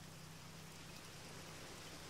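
Steady rain in the ARMA 3 video game, a constant soft hiss of drops falling on surfaces with a low hum underneath, even and unbroken throughout with no voices.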